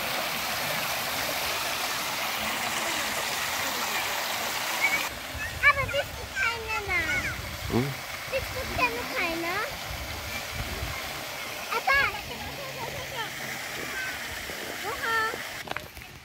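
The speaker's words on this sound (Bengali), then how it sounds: "এখানে ঝর্ণা সিস্টেম করা আছে মাছের জন্য এবং কাকতারুকের জন্য।" Water from a park fountain splashes and rushes steadily throughout, with people talking nearby over the constant watery hiss.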